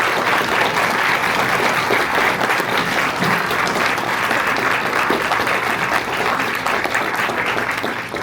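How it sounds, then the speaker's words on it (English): Sustained, dense audience applause fills the room at a conference on women in sports, loud and steady throughout with no break. "A round of applause."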